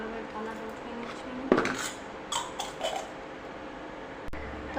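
A finished dinner plate is picked up and cleared from a meal. A few light clinks and scrapes of dishes sound over a quiet steady room hum.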